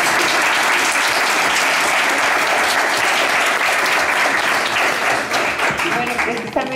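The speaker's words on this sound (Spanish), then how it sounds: "Un aplauso, por favor, para ellos." Conference audience breaks into loud, sustained applause with dense clapping that fades slightly toward the end, heard close with a voice over it.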